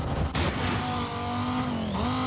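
An Aston Martin DB9 engine roars steadily in Need for Speed Most Wanted, a sustained racing drone with a brief burst of noise early on and a dip and rise in pitch near the end as the car shifts, no talk.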